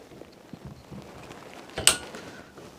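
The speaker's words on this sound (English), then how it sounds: "You'll need to press the child lock pin in and push in the plunger until it locks in place." The plunger of a shower holder is pushed in and clicks as it locks, a sharp close snap near the end after faint handling and creaking of plastic parts.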